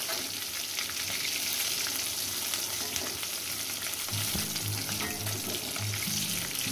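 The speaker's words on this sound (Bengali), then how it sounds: "বাদ বাকি মাছগুলো দিয়ে দিলাম বন্ধুরা। এগুলো ভেজে দিচ্ছি।" A fresh batch of bata fish fries in a pan of oil, a continuous close hiss and crackle with faint low knocks from the pan partway through.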